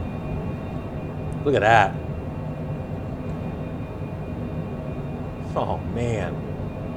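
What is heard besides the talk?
aircraft high speed night landing at El Alto, La Paz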